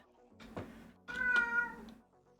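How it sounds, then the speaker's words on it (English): A house cat gives two close meows, a short one followed by a longer, louder drawn-out cry, with quiet background between. "No, kitty."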